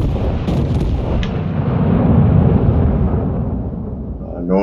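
Battleship main guns firing in World of Warships Legends during a ranked match between King George V and Colorado, a loud booming salvo that rolls and rumbles out over several seconds before fading.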